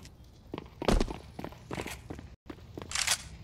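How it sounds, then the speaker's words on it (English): Footsteps in a Counter-Strike match come as a series of distinct thudding treads at an uneven walking pace, fairly close and moderately loud. A brief dropout splits the steps, and a last scuffing step follows. "You can hear the footsteps, Brandina."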